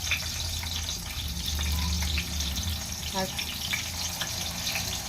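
Masala-stuffed brinjals sizzle in hot oil, a continuous close-up frying hiss with a few brief crackles, running steadily throughout alongside faint background noise.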